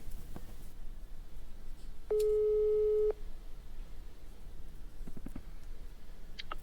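A telephone call tone plays as a single steady beep lasting about a second, then cuts off before the line is answered, amid quiet room noise and a few faint clicks.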